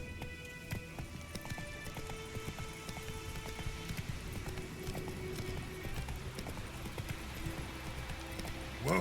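Roach, a horse in the video game The Witcher 3, gallops with a rapid, steady clip-clop of hooves close by, the rhythmic beats continuing throughout over faint background ambience.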